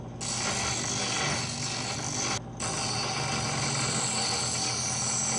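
Steel knife blade ground on a power grinder, a continuous loud mechanical whir and rasp with one very brief drop near the middle.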